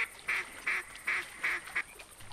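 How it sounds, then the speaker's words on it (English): Ducks calling overhead in theHunter hunting game, a series of five or six regular, nasal quacks at moderate distance over a quiet outdoor background. "Got some ducks above us"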